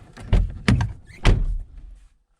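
A Volkswagen Golf 4 car door latch is worked by hand: three distinct mechanical clunks and thuds about half a second apart, close and fairly loud, then quiet.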